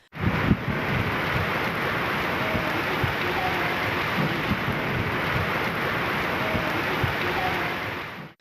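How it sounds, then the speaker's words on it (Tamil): Heavy rain lashes down with strong gusting wind in the Thalavadi and Asanur hill areas near Sathyamangalam, a dense, unbroken wash of loud, close rain and wind noise lasting throughout. "பலத்த காற்றுடன் 1 மணி நேரம் கனமழை பெய்தது."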